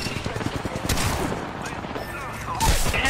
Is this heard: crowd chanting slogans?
no